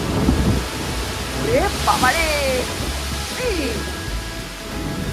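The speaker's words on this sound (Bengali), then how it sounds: "বাইরে তো ঝড় বৃষ্টি হচ্ছে, দেখতেই পাচ্ছেন" Thunderstorm with heavy rain at Puri, a steady broadband roar of wind and downpour filling the whole stretch while people talk and exclaim over it.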